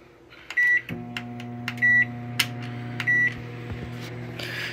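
A microwave oven hums steadily as it cooks a French bread pizza, interrupted by three short, clear button beeps spaced about a second apart, with small clicks of handling and no talk.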